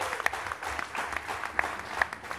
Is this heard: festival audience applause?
yes